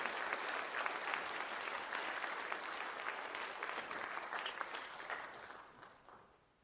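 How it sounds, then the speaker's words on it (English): Sustained applause from a commencement audience honoring graduates at a PhD ceremony, dense and steady clapping that fills the space before gradually tapering off at the end. "Let's just give one more round of applause to all of our amazing graduates."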